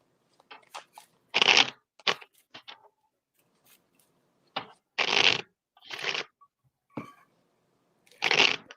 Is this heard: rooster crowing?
no